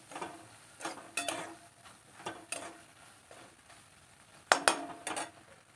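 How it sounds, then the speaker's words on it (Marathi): Crushed peanut powder roasting in oil in a pan, stirred in intermittent bursts: clusters of scraping, clattering strokes of the spoon separated by quieter stretches of low frying hiss, close by with no speech. "शेंगदाण्याचं कूट यामध्ये टाकायचं आहे मी सगळा टाकते हे भाजून घ्यायचं"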